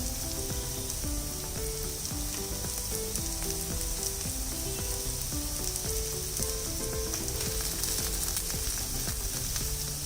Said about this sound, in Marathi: पटापट भाज्या आहेत आणि नुसत्याच तेलावर परतून घ्यायच्या आहेत आता बारीक चिरलेलं गाजर घालायचं